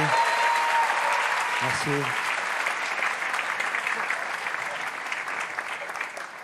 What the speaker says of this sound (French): applaudissez-moi tous correctement, s'il vous plaît